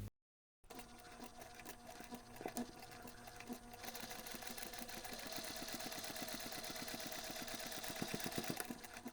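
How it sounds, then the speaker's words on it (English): Close sewing machine top stitching a pleated patch pocket along its folded edges: after a brief silence, a few slow stitches lead into a steady, fast, evenly pulsing hum that runs to the end. "you can take this to the machine and simply top stitch your pocket along those 2 folded edges"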